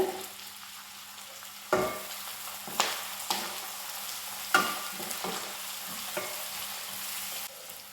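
Curry leaves dropped into hot oil crackle and sizzle for a Jaffna-style pirandai thokku, a steady close frying hiss with a few sharper pops and stirring scrapes, no voices.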